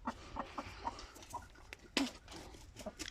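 Backyard hens clucking, short soft bursts scattered across the stretch, fairly close but quiet, with a sharper squawk partway through and no talk.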